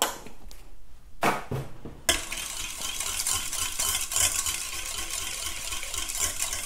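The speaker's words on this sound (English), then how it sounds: "And just give that a good stir." Stirring a homemade mandelic acid deodorant mixture with aloe vera in a container: a few light clinks and taps, then a continuous scraping, swirling rasp at close range, alone without talk.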